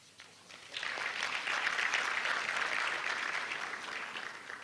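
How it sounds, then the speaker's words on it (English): An audience at an induction ceremony breaks into spontaneous applause, a dense wash of many hands clapping that starts abruptly and holds steady for several seconds in a large room, without speech. "I'm really happy you clapped spontaneously, otherwise the money would not come."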